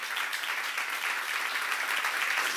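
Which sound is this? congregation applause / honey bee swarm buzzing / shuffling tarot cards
congregation applause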